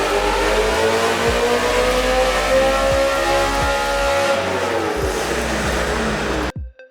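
Race car engine revving hard on a dyno in a shop, a loud steady mechanical roar with rising and falling pitch sweeps held for several seconds before cutting off abruptly near the end.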